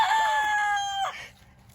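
A rooster crows once in a garden, a loud, close, drawn-out call lasting about a second, then fading into quiet background.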